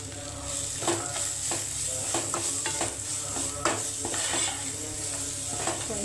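Grated carrot fries in a pan with a steady, close sizzle, broken by repeated scraping and clinks of a spoon stirring against the metal; no voices.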